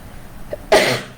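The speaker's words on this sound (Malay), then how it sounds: "bila saya mula batuk macam ni" A single sharp cough bursts out, loud and close, with a brief quieter sound just before it.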